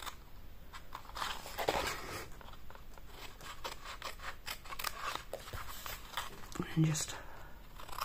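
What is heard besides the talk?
cutting away a card rectangle with scissors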